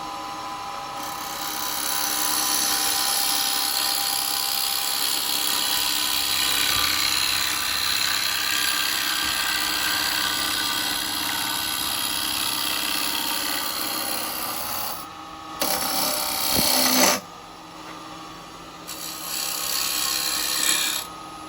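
Carbide chisel cutting a wooden bowl on a lathe, a steady close rasping scrape that runs for most of the stretch, then short gaps and a few bursts as the tool comes off and meets the edge again.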